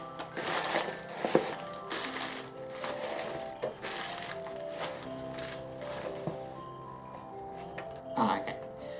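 Hands rummage through crumpled newspaper packing inside a gift box, giving continuous rustling and crinkling with occasional sharper crackles, close and moderately quiet, with faint voice-like sounds at times.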